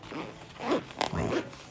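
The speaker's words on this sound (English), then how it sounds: "it seems like it actually fits, but I don't know if the zipper will close" A zipper is pulled shut on a stuffed LOONLOON pencil case, giving close, scratchy runs of teeth meshing in two or three strained pulls with a short stop between them.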